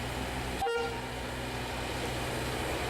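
A train in the far south of South America, modelled on earlier prison trains, rumbles steadily with a short horn toot near the start, its running noise continuing evenly afterward.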